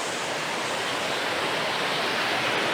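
Water swirls and flows through a stream, a steady broadband rushing wash with no pauses, close and even in level.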